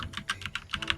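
Rapid typing on a computer keyboard during a game stream, a quick run of about eight crisp key clicks in one second, close and fairly quiet with no talking.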